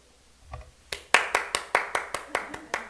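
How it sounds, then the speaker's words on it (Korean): A congregation at a Sunday church sermon claps in a steady, evenly spaced rhythm, about nine sharp claps close by, after a brief faint vocal sound. "박수!"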